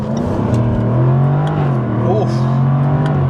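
A Jaguar F-Type V8 revs hard and accelerates up close, the engine note rising steadily and staying loud throughout with a brief shift-like break midway, while a voice talks over it.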